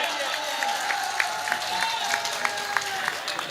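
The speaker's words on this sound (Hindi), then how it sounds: "एक बार जोरदार तालियां बजाइए।" Audience at the Banaras All India Mushaira 2025 claps steadily, a dense moderately loud wash of applause with scattered sharper claps throughout.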